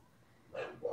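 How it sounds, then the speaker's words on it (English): A 54-pound female dog gives two short, loud barks close by, the second arriving just after the first. "She has a vicious bark."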